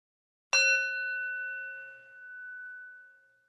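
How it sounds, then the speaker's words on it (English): A meditation bell is struck once gently, giving a clear ding that rings on with a long, smooth, slowly fading tone in near silence. "And I will gently ring a bell."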